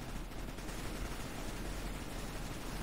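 Automatic gunfire in the video game CS:GO, heard as a continuous, dense, loud stream of shots with the trigger held down and no pauses.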